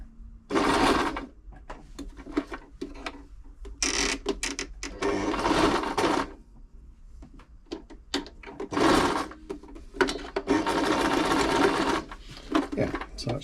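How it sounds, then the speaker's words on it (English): A Brother XL5012 sewing machine stitches a buttonhole in several bursts of rapid mechanical whirring and clatter, separated by short pauses; a voice speaks briefly between runs. "That's sewing beautifully. All the stitches doing what they should be doing. Doing a buttonhole."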